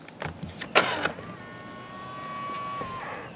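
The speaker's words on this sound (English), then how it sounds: "the side view mirrors fold in as well" A 2023 Jaguar F-Type R Coupe locks with a few short clicks and thumps, then an electric motor whirs steadily for about two seconds as the side mirrors fold in, close and clear with no talk.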